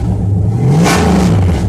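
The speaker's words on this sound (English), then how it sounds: "And this motor, I'm telling you, taking that manifold off and changing that plenum plate from steel to aluminum" A 99 RT car engine with its manifold removed and an aluminum plenum plate revs up loudly and close, pitch climbing then settling back over under two seconds.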